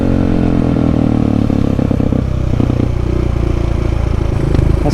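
A KTM supermoto motorcycle engine revs loud and close, its rough, pulsing note rising and falling with some mechanical clatter, and no voices over it.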